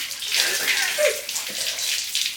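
Water gushes and splashes out of a Nissan 300ZX engine during a rebuild in a steady, close pour, with rushing, hissy bursts.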